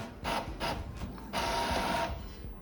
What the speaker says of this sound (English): So you can see now print has been started.